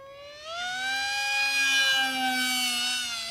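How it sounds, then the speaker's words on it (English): The screaming propeller of an Esky Eyas RC plane: a high, siren-like whine that swells in after half a second and holds steady and loud, with a faint low drone beneath, no voices. "it's the screaming prop noise"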